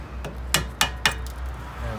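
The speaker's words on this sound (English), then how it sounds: "I need a lump hammer." Three sharp metallic knocks from a lump hammer striking rusted, jammed parts on a 2007 Ford Mondeo, evenly spaced and fairly loud, preceded by a lighter tap.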